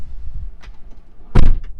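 The powered doors of a 2017 Tesla Model X 100D close on their own, with a soft motor whir followed by a solid latching thunk nearby.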